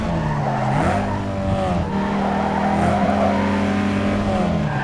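Race car engines in Need For Speed Underground 2 roar steadily and loudly throughout, with shifting engine pitch and tire squeal as the cars corner side by side.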